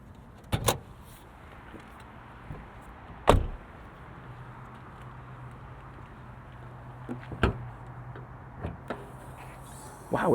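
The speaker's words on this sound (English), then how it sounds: "So we'll pop the hood, show you the engine" Hood of a 2025 Subaru WRX tS being popped open: a few sharp clunks and latch clicks spaced over ten seconds against quiet ambient hum, with a faint mechanical whir between them.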